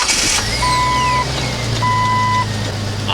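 A Jeep Wrangler TJ with a 4-liter straight six, fitted with a new starter, cranks and settles into a loud, steady idle with a low drone, accompanied by high tonal whines and beeps throughout.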